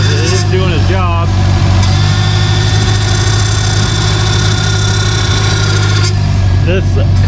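A Subaru Forester STI engine runs steadily at idle just after its first start, a loud continuous low rumble with a faint whine, while people talk over it.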